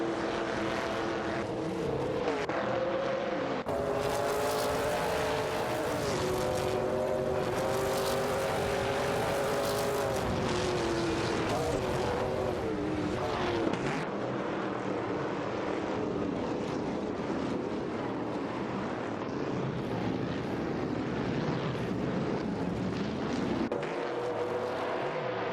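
A Ford Torino '71 and an AMC Matador race in a video game, their engines a continuous loud drone with rising and falling pitch sweeps as they accelerate and shift, filling the whole stretch without pause.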